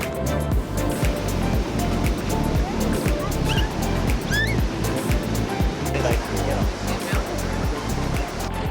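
Fast, powerful river current rushing steadily close by, a dense continuous roar of churning water with no pauses, holding loud from start to finish.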